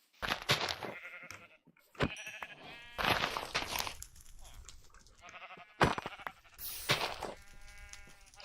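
Repeated sheep bleats from the video game Minecraft come in short bursts, fairly close and clear, among quick game sound effects, with talk in between.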